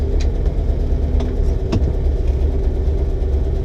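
A 1937 Ford V8 in a convertible sedan idles slightly fast on a cold day, a steady low rumble close by with a few faint clicks over it and nobody talking.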